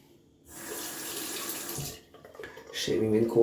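A bathroom tap runs cold water into a sink for wet shaving, a sustained splashing gush that starts after a quiet moment, drops off, then returns with a heavier, fuller rush of water.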